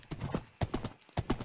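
Horse hooves clip-clopping in Minecraft, three quick bursts of hoofbeats at an even trotting rhythm, close and fairly quiet.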